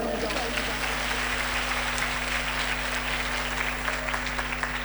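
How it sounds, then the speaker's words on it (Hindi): Audience at a holy mass clapping loudly and continuously, a dense, even wash of applause filling the hall, with a voice faintly audible beneath. "जोर दी ताली बजाओ।"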